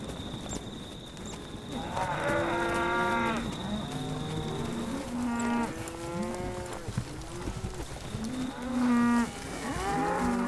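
Cattle low repeatedly on an Australian farm, several drawn-out moos in close succession from more than one animal, fairly near and clear over steady outdoor background noise.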